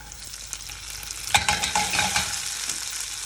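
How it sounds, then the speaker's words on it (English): White beans tip into a hot pot of browning shallots and garlic, setting off a burst of sizzling and stirring that stays close and steady for a few seconds, with no one speaking. "we're getting a little bit of browning on the shallots, a little bit on the garlic. Let's get the beans into the pot."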